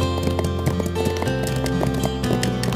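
Horse hooves clip-clopping at a steady pace through a tonal background score, fairly close and continuous, with no talk.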